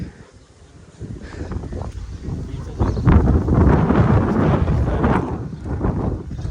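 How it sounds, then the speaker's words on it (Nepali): Strong gusting wind buffets the microphone on a hilltop trail near Chaitya Gumba, with a low roaring rumble that builds from about the one-second mark and stays loud and continuous to the end. "यस्तो खतरनाक हावा चल्यो अहिले"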